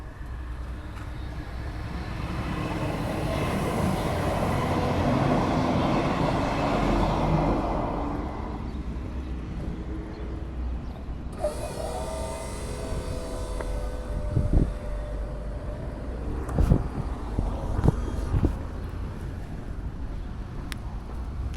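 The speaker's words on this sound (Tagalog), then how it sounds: "andyan na yung tren" A train pulls into a station, its broad rumble swelling near and loud before fading, followed by lighter clanks and thuds of carriages settling and doors as it comes to a stop.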